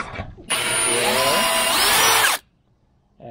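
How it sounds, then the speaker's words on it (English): A power drill boring pocket holes through wood with a Kreg pocket hole jig, one loud continuous whine lasting about two seconds that rises in pitch as it cuts, close up. "I'm just drilling my pocket holes now"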